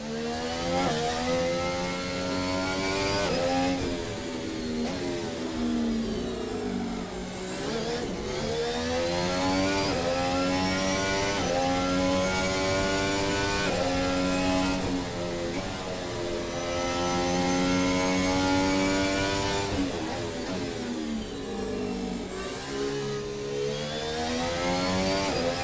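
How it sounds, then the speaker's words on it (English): An F1 car mod in a racing video game screams around the Kyalami track, its high-revving engine rising and falling through repeated gear shifts and passes, loud and continuous with no talk. "I think this car sounds different to the other one"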